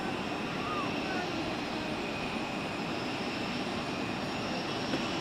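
An Emirates airliner's jet engines roar at Zurich Airport on runway 16 before takeoff: a steady, even rumble at moderate distance that holds throughout without rising or fading.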